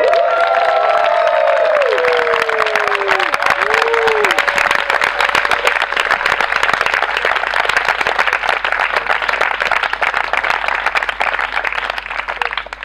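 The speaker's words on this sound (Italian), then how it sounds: "Possiamo fargli un applauso?" Sustained applause and some cheering from an audience celebrating an organisation's 20th anniversary, a loud continuous clatter of many hands, with brief whistles or vocal cries near the start.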